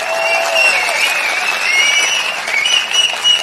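A crowd at a political meeting applauds and cheers, a loud sustained wash of clapping with shrill whistles and shouts riding over it.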